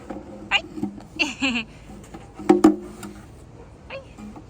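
A cat meows several times in short, close calls, mixed with a few brief vocal sounds from people nearby.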